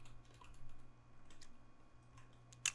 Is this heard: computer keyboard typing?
yes